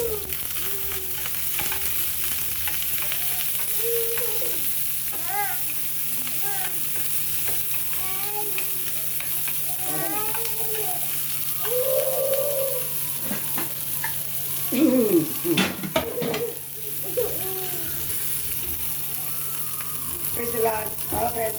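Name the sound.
onion, red chillies and curry leaves sautéing in a pan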